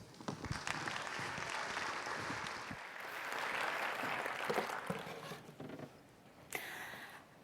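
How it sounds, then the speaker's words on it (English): Conference audience applauding a speaker at an SEO event, sustained clapping that swells in the middle and tapers off, with a short later burst and some background murmur. "So we have a big round of applause for what is a really, really interesting talk"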